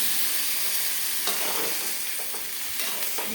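Okra frying in a pan with a ground paste of chili, mustard and a little poppy seed is stirred, giving a steady close sizzle broken by a few soft scraping stirs and no talk.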